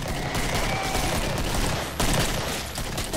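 Rapid gunfire in the Killing Floor video game, a dense, continuous fusillade of loud shots with a sharp crack near the middle, dominating throughout with no talk.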